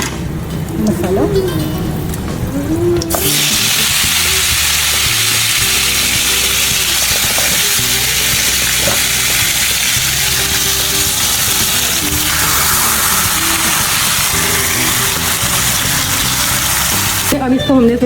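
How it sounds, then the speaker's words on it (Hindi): Meat frying with masala in a pan, a loud steady sizzle and hiss running throughout, with someone talking over it much of the time. "अब इसको हमने इसमें फ्राई करना जब तक ये ब्राउन हो जाए।"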